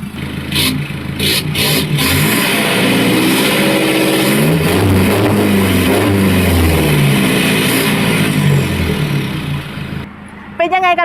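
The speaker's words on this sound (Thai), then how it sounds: "เดี๋ยวเรามาชมเสียง ท่อรถคันนี้กันนะคะว่าจะ ดุดันแค่ไหน" The exhaust of a modified Toyota Revo pickup truck rumbles loudly and close, rising and falling through revs over several seconds before cutting off, with a voice speaking over it.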